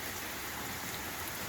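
Pouring rain falls steadily outdoors during a thunderstorm, a dense, even hiss of drops on surfaces, close and continuous, with no distinct thunder and no voices.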